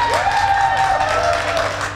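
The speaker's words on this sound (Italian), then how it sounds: "Facciamo un bel tifo per Sly" Studio audience at an Italian game show cheering and applauding for a contestant, a steady dense wash of clapping and crowd noise throughout, loud and close, with voices mixed in.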